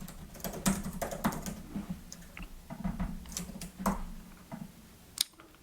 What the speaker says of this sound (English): All you have to do is just double click like this and type what you want.